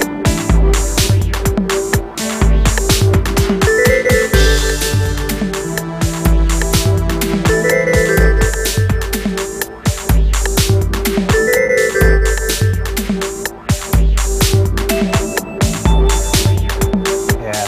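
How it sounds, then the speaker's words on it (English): Bell tones ring within a dense, loud electronic song groove built live, with a repeating bell melody over steady drums and bass throughout. "Bells were a little too loud."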